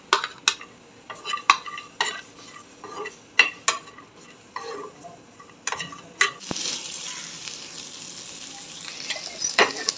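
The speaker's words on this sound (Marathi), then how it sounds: "पॅन गरम झालेला आहे, आपण कांदा भाजून घेऊया।" Chopped onion and dried coconut roast in a hot pan, with repeated close scraping and clinking strokes of a spoon against the metal, followed by a steadier sizzling hiss.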